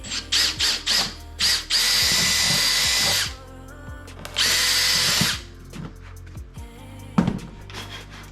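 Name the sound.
power drill drilling holes in timber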